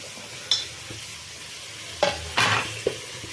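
Chopped tomato being fried and stirred with soya chunks and vegetables for a soya mint pulao, giving a low sizzle broken by a few sharp utensil scrapes and clatters near the end, with no voices.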